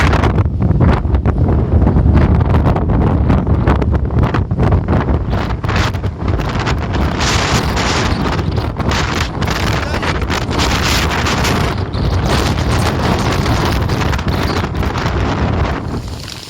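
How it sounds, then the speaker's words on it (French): Strong, steady wind at a wind farm on the Pacific Crest Trail buffeting the microphone with a loud, continuous roar and rumbling gusts, no voices. "est-ce qu'il y a du vent dans une wind farm? Oui."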